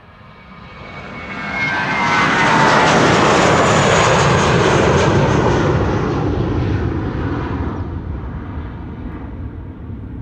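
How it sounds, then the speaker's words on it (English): Finnair Airbus A321 jet departing Amsterdam Schiphol for Helsinki, a loud broad engine roar that swells after the first seconds, holds strong, then slowly eases as the aircraft moves away. "This is Finnair. Unlike yesterday when it was an A350, today it is an A321. Going back to Balladi, Helsinki in Finland"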